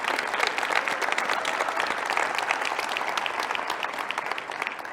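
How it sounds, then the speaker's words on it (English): A conference keynote audience at Ekoparty 2022 claps for the Core Security team, loud, dense applause sustained throughout with a slight easing at the end. "So I want, again, a round of applause for the folks at Core Security"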